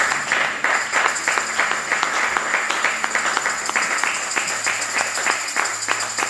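A church congregation breaks into steady, dense applause that carries on without pause, loud and close, with brief shouts rising over the clapping.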